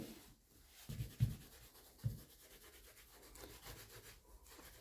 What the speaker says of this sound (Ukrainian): Ретельно протираємо серветкою саму півпару.